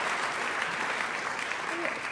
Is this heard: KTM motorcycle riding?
no